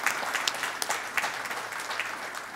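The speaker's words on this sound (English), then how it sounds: "So can we all just give ACH a round of applause?" Audience applause at a district address in a hall, a sustained, even patter of many hands clapping for the whole stretch, moderately loud with no voices standing out.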